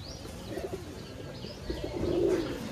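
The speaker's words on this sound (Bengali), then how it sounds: "তো এটা হলো নর কবুতর।" Giribaj pigeons in a loft in Rajshahi give low, rolling coos that swell near the end, set against a steady murmur of the loft.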